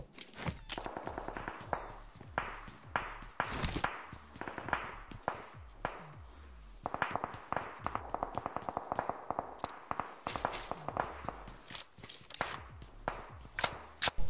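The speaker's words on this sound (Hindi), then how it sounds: "मुझे अपार्टमेंट की तरफ से गोली चलने की आवाज़ आती है" Gunfire in the BGMI battle-royale game near an apartment building: sharp, rapid cracks in irregular bursts and single shots, some close and loud, others distant, continuing throughout.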